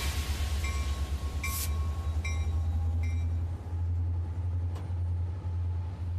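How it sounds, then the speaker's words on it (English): The Iron Ore Express, the longest train in the world, rolls through the Sahara with a loud, steady low rumble, overlaid by metallic squeals and intermittent sharp clanks of its wagons. "The Iron Ore Express may take a while to get going, but then it is the longest train in the world."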